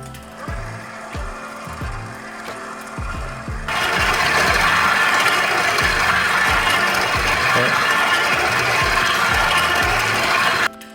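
A stand mixer slowly working Scandinavian-style sourdough rye bread dough: rhythmic mechanical knocking at first, then a louder, steady motor whir that runs until it shuts off near the end. Nobody speaks.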